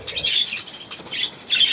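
Several short high gull cries in quick bursts, fairly near, over an outdoor background with no talk.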